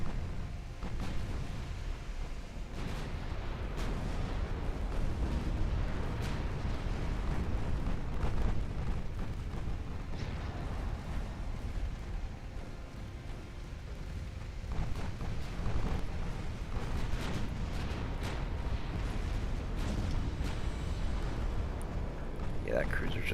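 Naval gunfire from battleships in the Ultimate Admiral Dreadnoughts video game: a continuous rumble of distant booming shots and blasts layered over each other, moderately loud and unbroken throughout.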